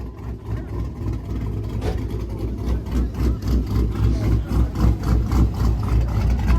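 A car engine idles and revs at a car meet in a Steak n Shake parking lot, a rumbling, pulsing exhaust note with repeated throttle blips, fairly close and loud, with outdoor crowd noise behind it.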